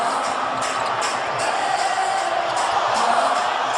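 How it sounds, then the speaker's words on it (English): A sellout basketball arena crowd roars steadily, a dense wash of voices with rhythmic chanting of a player's name swelling throughout, loud and continuous with no break. "And the chants of Jeremy now thundering down from the sellout crowd."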